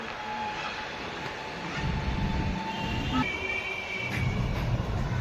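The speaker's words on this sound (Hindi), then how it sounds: "ये देखो मेट्रो जा रही है सामने से।" A metro train passes by outside, giving a steady mid-distance rumble with rising and falling rail noise over a few seconds. No one talks over it.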